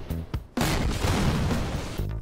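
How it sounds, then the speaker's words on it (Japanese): A cannon fires in the Roblox video game during an obstacle race. A few short clicks lead into a loud, broadband blast that roars steadily for about a second and a half before cutting off. "大砲撃ってくんのか。"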